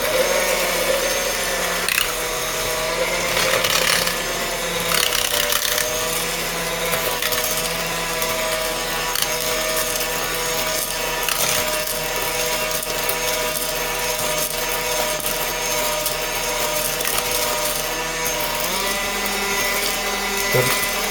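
A modded Aldi Ambiano cordless hand mixer whirs steadily through zucchini bread wet ingredients, its motor hum joined by constant scraping and rattling against the bowl, close and continuous with no talking.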